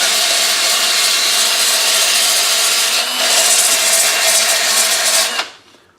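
Steady, continuous rasping of an abrasive tool shaping a wooden model boat hull, loud and close with no pauses, then cutting off abruptly near the end and fading into quiet.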